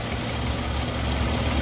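A Mercedes-Benz E350 engine idles steadily with its mass air flow sensor wire disconnected, a continuous close low rumble with a faint rhythmic ticking and no voices.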